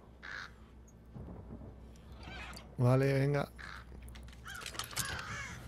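A bird in the game Thief gives one loud, harsh, drawn-out caw close by, lasting under a second, amid a speaker's talk and quiet game ambience.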